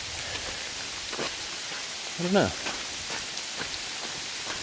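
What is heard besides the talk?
rain falling on trail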